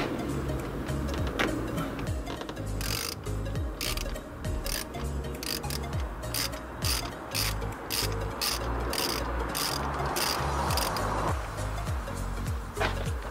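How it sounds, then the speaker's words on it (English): A ratchet turns a 5/8-inch (16 mm) spark plug socket to loosen stock spark plugs, giving repeated quick clicking strokes in close, steady bursts with short pauses between pulls. "we're going to get our spark plug socket and remove the stock ones"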